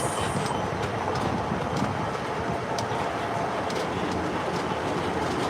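A Universal Studios Hollywood studio tour tram rolls along with a continuous rumbling, clattering drone and light rhythmic clicks from the wheels.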